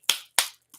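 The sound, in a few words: attempted hand clap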